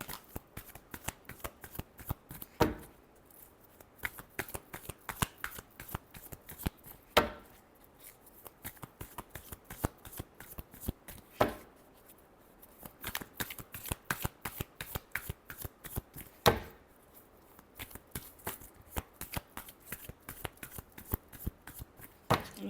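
A tarot deck shuffled over and over in quick riffling bursts, each run ending in a sharper snap, all close up and with no one speaking.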